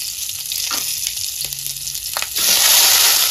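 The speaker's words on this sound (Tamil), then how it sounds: "வெங்காயத்தை போட்டு வதக்கலாம்." Onions and mustard seeds sauté in hot oil, a steady close sizzle with scattered spoon scrapes that swells into a louder, fuller hiss as the onions hit the pan near the end.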